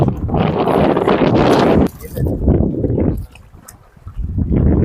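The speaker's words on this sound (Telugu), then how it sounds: "అంత ఫోర్స్గా గాలి కొడుతుంది" Strong wind roars against the microphone over a large village lake in loud, steady gusts, easing briefly before building again; no talking is heard.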